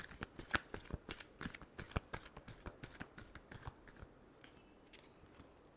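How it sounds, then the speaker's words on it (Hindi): Tarot cards are riffled and shuffled close up in a quick run of crisp flutters and snaps that trail off softer toward the end. "Last shuffle."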